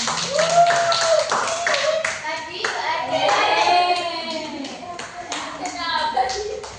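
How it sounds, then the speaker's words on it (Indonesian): Classmates clap for a student in a classroom, a busy burst of hand claps running throughout while a woman and children keep talking over it. "Kita beri tepuk tangan."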